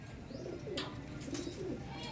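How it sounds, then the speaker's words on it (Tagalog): Pigeons coo faintly as they are released to fly. Soft low calls repeat a few times, with brief rustling bursts that may be wings, all quiet and somewhat distant. "Yan yung mga ibon natin, nagliparan na."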